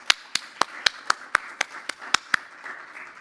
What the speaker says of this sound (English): can I have a round of applause for our panelists today?